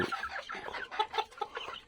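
Japanese bantam chickens cluck softly and continuously, several birds murmuring and clucking close together at a low level.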